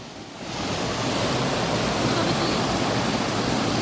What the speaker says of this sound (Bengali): এই যে ঝর্ণা অনেকে বসে আছে আর ঝর্ণার খুব স্রোত